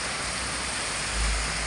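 Heavy rain pouring onto a flooded street in the Philippines, a dense, steady hiss of rainfall with a faint low rumble, continuous and loud throughout the short stretch.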